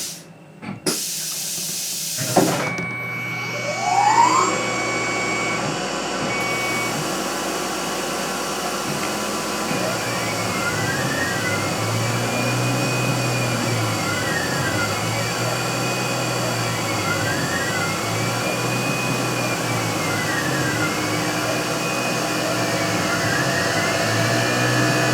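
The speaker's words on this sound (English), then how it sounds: "Time to switch to the thread mill. This is a 3/8 inch thread mill." A CNC machine runs a single-flute 3/8 inch thread mill cutting extra fine M18 x 0.1 threads on a wheel adapter, a steady whine and hiss with sweeping tonal arcs as the tool circles, after a brief startup burst.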